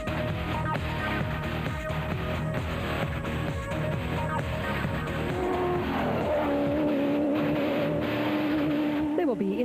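Off-road race cars compete in the Toyota 1000 Desert Race in production and special vehicle categories, their engines roaring and revving continuously, loud and close, beneath a commentator's voice.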